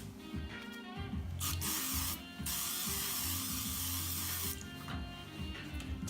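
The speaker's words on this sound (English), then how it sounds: "Just spray it on your bread." A Misto sprayer mists olive oil onto bread in a home kitchen: a short hissing burst, a brief pause, then a longer steady spray, close and fairly loud over a low background hum.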